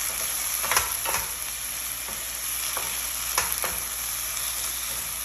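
Tomato and tuna mix with salt and black pepper sizzles steadily in a frying pan, with a few scrapes and clicks of stirring against the pan and no talking.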